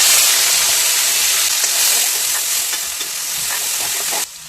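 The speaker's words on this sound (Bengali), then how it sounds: "এরপর এখানে আমি এই আদা রসুন পেস্ট করাটা দিয়ে দেবো।" Ginger garlic paste sizzling in hot oil with whole cardamom, cinnamon, cloves and peppercorns for Afghani pulao, a steady bright frying hiss with some stirring, close and continuous, dropping off sharply near the end.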